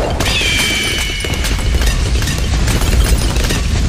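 Laser bombs go off in Bloons TD 6 as a loud, unbroken barrage of booms and crashes, dense and overlapping for the whole stretch, with no voice over them.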